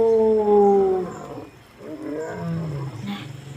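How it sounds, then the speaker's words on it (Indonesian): A lion roars loudly in a children's story, a strong, drawn-out growling roar that fades, followed by a second, lower rumbling roar alone. "singa pun mengaum dengan sangat keras"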